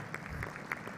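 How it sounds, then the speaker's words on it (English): Scattered applause at a corporate environmental summit in Singapore, a handful of separate claps rising over a low room hum, fairly quiet and thin. "A big round of applause, please, for Mr. Nazareth."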